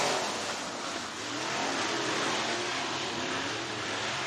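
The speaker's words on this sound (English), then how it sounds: "Final D&E Outside Services heat race underway." Race cars thunder around Boone Speedway in an IMCA heat race, a dense, sustained engine roar that swells slightly as the field pushes down the straightaway; loud and continuous, with no voices.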